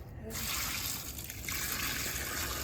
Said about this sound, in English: And we're gonna pour water on it.